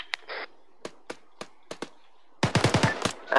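Machine gun fire in the Arma 3 video game: a few spaced single shots, then a rapid close burst of automatic fire, loud and sharp with no talk.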